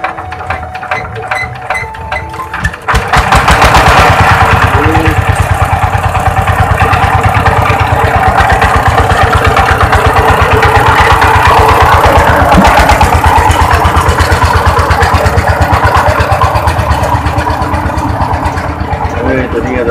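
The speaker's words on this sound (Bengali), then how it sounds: "তো ওই যেখানে উনি স্টার্ট মারবে, দেখেন স্টার্টের দৃশ্যটা।" Engine on a village vehicle hauling straw in rural Mymensingh is cranked and catches after a few seconds, then chugs at a loud steady idle right up close, with people talking over it.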